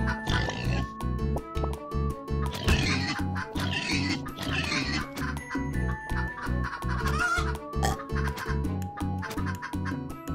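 Chickens in the video game Turnip Boy Commits Tax Evasion, repeated clucking and grunting game sound effects over a rhythmic soundtrack, with steady pulsing music throughout.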